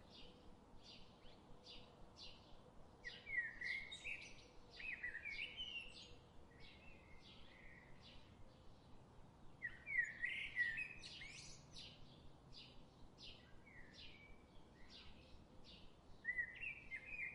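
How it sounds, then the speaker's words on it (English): Birds chirping and tweeting outdoors in short, intermittent phrases, soft and somewhat distant over quiet background noise, with no voices. "Maybe there is sound of birds."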